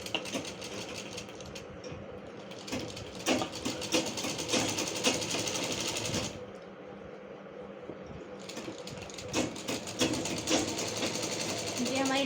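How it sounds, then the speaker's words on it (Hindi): A sewing machine double stitches the shoulder seam of a dress, running in a fast continuous whir with a short pause midway, while someone talks over it. "अब यहीं से हम इसे टर्न कर लेंगे और इस साइड में डबल स्टिचिंग करते हुए वापस शोल्डर के साइड में जाएंगे।"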